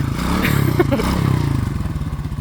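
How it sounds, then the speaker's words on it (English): A small motorbike engine, one of several engines being run on a boat-cleaning day, starts with a clatter and settles into a steady, loud, close idle throb that continues to the end. "This little motorbike started."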